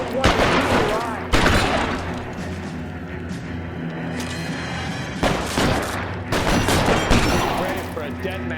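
Sharp gunshots in the video game LA Noire ring out in several separate bursts, loud and close, while someone speaks between and under the shots.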